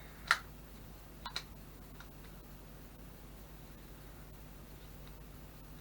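Three faint, dry clicks from the keypad of a Samsung SGH-E900 mobile phone, one early and two close together a second later, over quiet background hiss.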